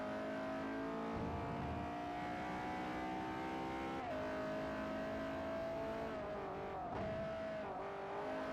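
A car engine in the racing game Forza Motorsport 4 holds a steady, droning high-rev tone, with a few brief dips as the pitch shifts, loud and continuous throughout.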